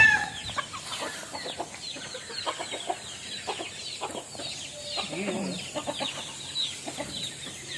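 Backyard chickens cluck steadily and close by during feeding, a busy run of overlapping hen clucks with a rooster-like call among them, no one talking over them.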